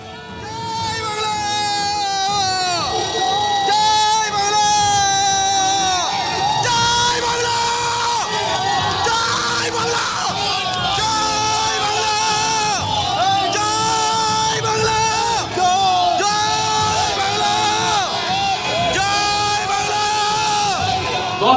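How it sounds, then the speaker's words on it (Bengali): Dense crowd of BJP and Trinamool supporters yelling and chanting slogans at each other during a scuffle on Chandrakona Road, loud and continuous for the whole stretch, with overlapping voices and shouts. "স্লোগান যুদ্ধ।"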